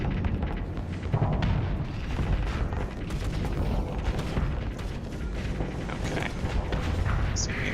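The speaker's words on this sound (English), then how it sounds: "Fire up the old automatic shotgun" Automatic shotgun blasting in a Diable Avionics: Dreadnought Edition space battle, a dense, continuous roar of heavy booms and mechanical thuds that stays loud and steady throughout with no one talking.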